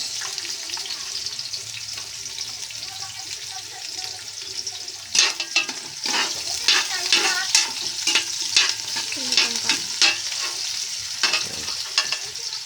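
Onion sizzling and frying in a pan while being stirred, a steady hiss broken by scraping and clattering of the utensil against the pan from the middle onward.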